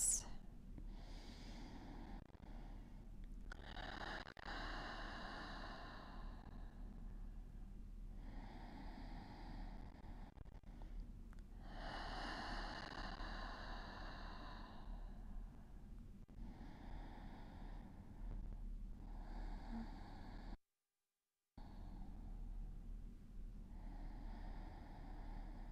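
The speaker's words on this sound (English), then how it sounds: "I'm going to take 10 deep breaths." Deep breathing during a restorative yoga session for back pain, with slow, audible inhales and exhales repeating close to the microphone. There is one brief silent gap near the end.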